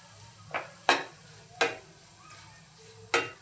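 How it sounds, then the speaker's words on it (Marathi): A spoon scrapes and taps against a pan in four or five distinct strokes as French beans are tossed with grated fresh coconut, Malvani style, with a soft sizzle underneath. "छान मिक्स करून घेऊया।"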